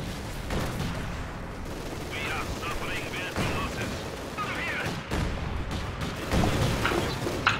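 Tank cannon and machine gun fire in Company of Heroes 2 rumbles through a dense battle soundscape of overlapping shots and booms, partly under players chatting.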